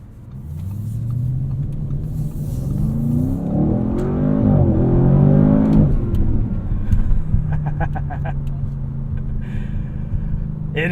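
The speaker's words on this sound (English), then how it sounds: "when you open up the exhaust, you get a very satisfying rumble." A 2024 Audi RS7 with its exhaust opened up accelerates hard, a deep rising rumble building to a peak then settling into a steady drone, heard from inside with no voices.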